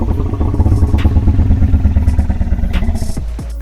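A deep, throaty Ankylosaurus growl from a dinosaur video game, a loud, close, rhythmically pulsing rumble sustained for over three seconds, with a slight tapering at the end.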